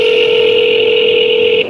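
A steady electronic telephone tone, a single sustained pitch with a bright overtone, sounds close and loud and holds evenly for nearly two seconds before cutting off.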